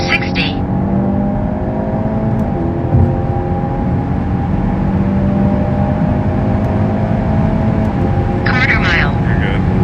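A tuned Hyundai Elantra N accelerates hard in a drag race, its engine droning loudly with rising harmonic tones and a brief shift dip, heard from inside the car, with wheel spin and people talking over it.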